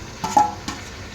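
Onions and tomatoes sautéing in a pan, with two or three quick spatula scrapes and stirs over a faint, steady sizzle, close by and brief.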